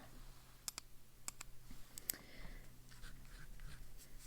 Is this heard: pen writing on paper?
yes